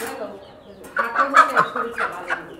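Fancy chickens kept on a rooftop give a quick series of close, throaty clucks, about half a dozen short bursts in a loose rhythm after a quiet start.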